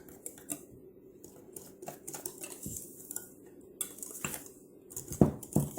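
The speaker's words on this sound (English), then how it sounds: "Now we're going to mix all our dry goods together." Dry muffin ingredients, flour with salt and baking soda, are mixed in a bowl for keto chocolate chip muffins, giving soft, faint scratchy scraping and patter with a few light taps and clinks, close by.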